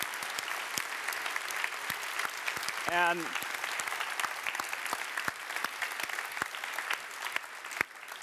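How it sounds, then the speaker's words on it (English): Audience at DockerCon applauding contributors and maintainers, a sustained round of clapping from a crowd with a brief word spoken over it. "So could the contributors and maintainers stand up, please, one more time? Please, a round of applause."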